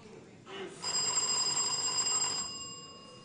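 A contestant's bell rings in a science and maths quiz competition, a bright sustained ring lasting about a second and a half over faint room noise before fading.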